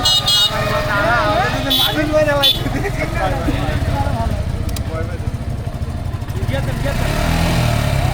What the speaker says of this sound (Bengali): এই জায়গায় বাইক বাইক চালানোর ট্রাই করতেছে রাস্তাটা অনেক ব্যস্ত